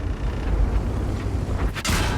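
A high-explosive tank shell fires in a tank video game as a sharp, booming blast near the end, following a stretch of rumbling engine and mechanical noise.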